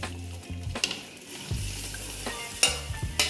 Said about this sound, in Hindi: अब मैं इसके अंदर प्याज डालूँगी।